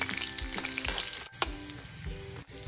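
Chopped garlic fries with tempering spices in hot oil for masoor dal, a close sizzle broken by repeated scraping strokes of a spoon stirring the pan.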